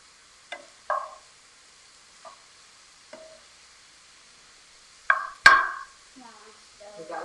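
Sausage browns in a pan while a utensil breaks it up, a few sharp scrapes and taps spaced out over near-silence, with a louder clack near the end and a little talk.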